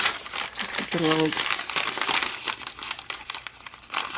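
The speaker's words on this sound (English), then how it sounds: "we'll take our bag, open it, fold it the opposite way on this one" Paper gift bag being opened and folded during a paper-craft session, steady crinkling and rustling throughout with a brief voice partway in, close and fairly loud.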